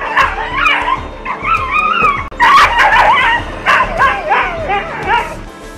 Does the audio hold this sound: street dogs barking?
yes